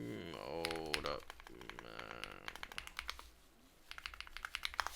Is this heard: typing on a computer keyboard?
yes